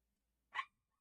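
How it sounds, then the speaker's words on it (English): A single short, faint dog bark sounds once from a distance against near silence. "You can probably hear a dog barking though, I'll say that,"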